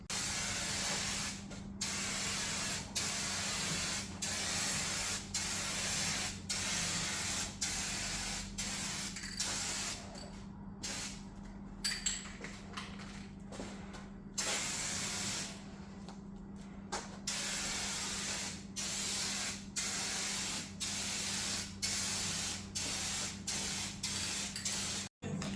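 Repeated bursts of aerosol spray primer hiss close up from a Rust-Oleum can onto a Chevy Squarebody truck, short sprays in a steady rhythm separated by brief pauses, over a faint electrical hum.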